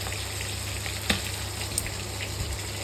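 Eggplants roast and char over an open flame, giving a steady close crackling sizzle with a few small sharp pops and a constant low hum underneath.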